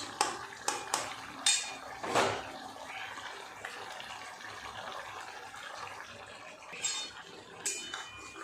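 Fried tomato and onion being added to a potato curry in a pan, with several sharp clinks and scrapes of utensil on metal early on, then quieter shuffling and wet stirring noise, close and fairly soft, with no voices.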